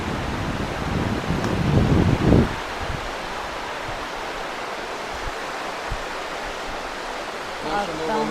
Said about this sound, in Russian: Шумит, течет река.